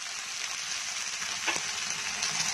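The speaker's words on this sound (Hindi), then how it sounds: "हमारे आलू भी काफ़ी अच्छे से फ्राई हो गए, और लहसुन अदरक भी अच्छे से वो हो गया" Potatoes fry in a pan with garlic and ginger, giving a steady close sizzle with faint stirring scrapes and no voices.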